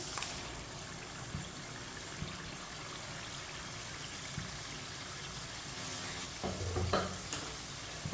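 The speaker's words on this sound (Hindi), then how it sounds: "दाल को मिक्स कर लेंगे।" Boiled mash dal being stirred into a masala in a pan, a low continuous sizzle with occasional scraping and wet stirring sounds, brief clatter near the end, no talking.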